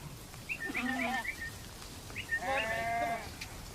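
Two short, wavering bleats from a sheep being herded toward a farm for shearing, faint and separated by a brief pause, over quiet outdoor background.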